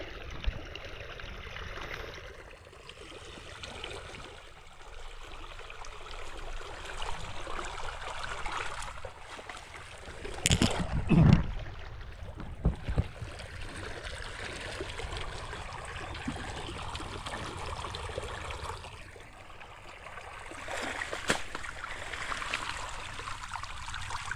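Irrigation water flows and trickles steadily for the whole stretch, with a louder gurgling burst partway through and no talking.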